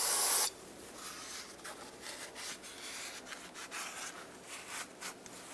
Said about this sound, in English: Use brake parts cleaner on a rag. Just wipe it to remove all oil and contaminants.